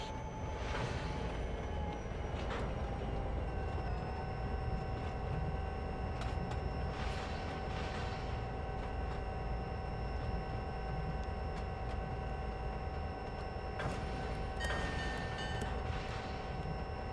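A train runs steadily through a snowy rail line on the Bayport Branch, a continuous low rumble with faint squeals and clicks from the rails over about seventeen seconds, no talking.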